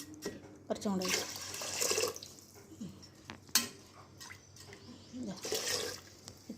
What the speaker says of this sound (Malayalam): ഇതിലേക്ക് മുങ്ങാൻ പാകത്തിന് വെള്ളം വേണം കേട്ടോ.